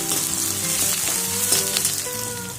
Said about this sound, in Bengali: এরপর দিয়ে দিচ্ছি এখানে পেঁয়াজ আর ক্যাপসিকাম কয়েকটা চেরা কাঁচা লঙ্কাও দিয়ে দিলাম এবার সামান্য ভাজবো